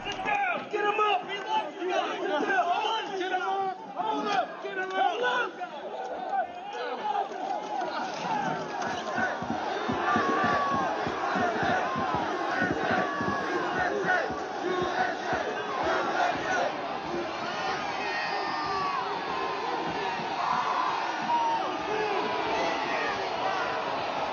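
A large crowd of January 6th rioters shouting and roaring continuously, a dense wall of overlapping yells and chanting voices, loud throughout, with cries rising above the mass of noise.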